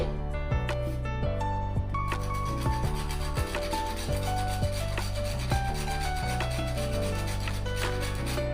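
Whole nutmeg is grated for traditional sesame-jaggery laddoos. A steady, rasping scrape continues under loud background music throughout.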